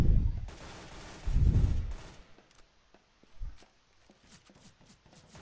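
Muffled gunfire in Counter-Strike on the de_nuke map, a few low booming bursts in the first seconds followed by scattered light clicks and small taps, with no talking.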